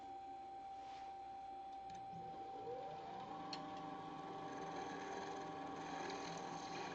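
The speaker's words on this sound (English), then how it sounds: "we're going to concave it just a little bit. do that with, I think, this negative rake scraper." A negative rake scraper cuts recycled plastic on a lathe, a faint steady whir with a tone that bends upward midway as the cut continues.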